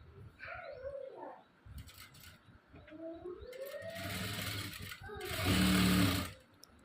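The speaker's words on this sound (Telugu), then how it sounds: "ఇప్పుడు దీనికి జాయింట్ స్టిచ్ వేసేయాలి" A sewing machine stitches the joint seam of a blouse, its motor humming and rattling steadily in a close, moderate buzz that grows louder toward the end.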